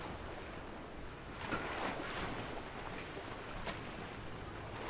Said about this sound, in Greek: Ακούγεται το κύμα.